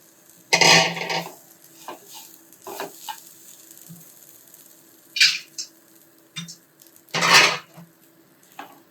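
Grated coconut stirred in a kadai pan for poorana kozhukattai filling, with repeated loud scraping bursts of a metal spoon against the pan between quieter pauses, close up and without talk.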